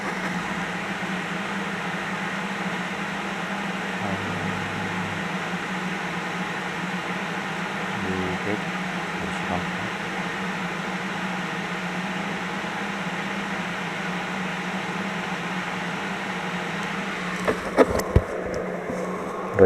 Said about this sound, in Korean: 제가 용접 좀 세게 한번 해볼게요.